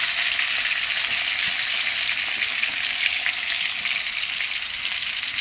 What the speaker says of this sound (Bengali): তেল গরম হয়ে গেছে আমরা পেঁয়াজ দিয়ে দিলাম